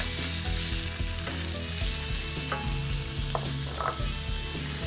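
Half-inch pieces of pork loin sizzle loudly in a hot pan, a dense close frying hiss with stirring scrapes and clatter throughout.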